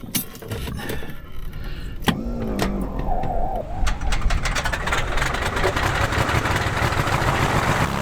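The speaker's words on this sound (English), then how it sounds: "We're just warming up the engine at the moment." An aircraft engine with a propeller idles as it warms up before run-up, a steady loud rumble with crackly rattling throughout and a brief faint voice-like tone partway through.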